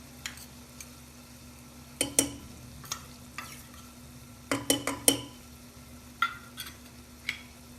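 A spoon stirs goda masala through brinjal and potato vegetable frying in a pan, giving scattered scraping knocks and clinks in uneven bursts over a quiet, faint sizzle.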